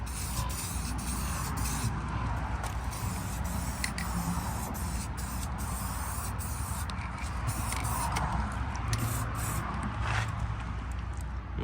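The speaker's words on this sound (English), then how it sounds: "So I'm gonna just spray this thing up." An aerosol can spray paints a 3/8 metric socket rail, making a continuous close hiss broken by short sputtering bursts, with no speech.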